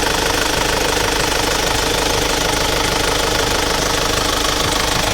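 A cold engine idles with a steady knocking chatter while its crankcase breather vents heavily; the sound is loud, continuous and close, with no pauses for the full stretch.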